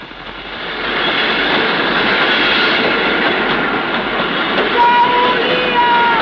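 An evening train rolls past, a steady loud rumble and rattle of rail cars sustained throughout, with faint tonal squeals near the end and no voices.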